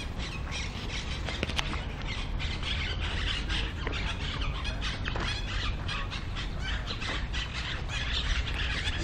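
Birds squawk and chirp densely in a Barcelona street, a loud continuous chorus of calls with sharp squeaks over a busy background of city noise.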